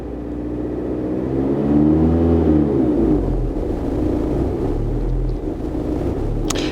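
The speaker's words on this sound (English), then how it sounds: "Now I'm pressing the gas pedal to see the live data." Car engine revving as the gas pedal is pressed, rising in pitch to a loud peak and then falling back to a steady rumbling idle.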